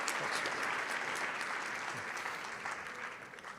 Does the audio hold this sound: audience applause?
yes